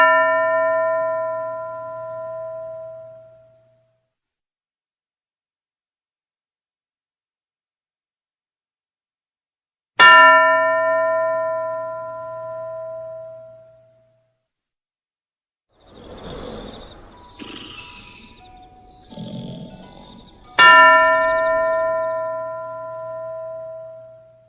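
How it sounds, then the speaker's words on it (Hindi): A ringing bell marks turns in a classroom sentence-making game, struck three times with long gaps, each clear resonant tone decaying slowly; between the second and third rings children's voices are heard speaking briefly. "हर घंटी के बाद सिर्फ 5 सेकंड मिलेंगे वाक्य बनाने के लिए और फिर अगले बच्चे के लिए घंटी बज जाएगी"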